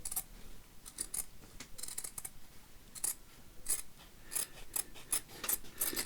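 Scissors cut through fabric for a Christmas stocking with a series of crisp, close snips. The cuts come in an uneven rhythm, quiet but distinct, with a soft rustle of cloth between them.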